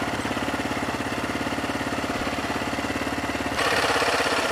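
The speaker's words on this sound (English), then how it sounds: "I've already got the four-wheeler warmed up." A warmed-up four-wheeler ATV engine idles with a steady, rough pulsing rumble close by, growing a little louder and harsher near the end.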